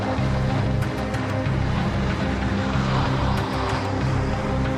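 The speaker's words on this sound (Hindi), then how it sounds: "कोहरा इतना ज्यादा था कि हवाई जहाज को लैंड करने में पायलट को दिक्कतें आ रही थीं।" An airplane tries to land in heavy fog, its steady engine drone loud and continuous throughout, with no voices.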